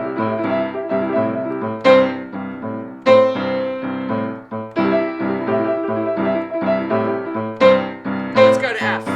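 Boogie-woogie piano in C plays rapid octave tremolos, shimmering continuously with accented chord attacks every couple of seconds; loud and close, with no talking.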